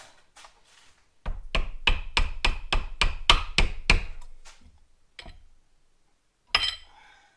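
Hammer blows on a broken Chinese turbocharger ring out in a rapid run of about ten sharp metallic strikes, followed by a few scattered lighter taps and one final louder hit, close and unaccompanied by talk.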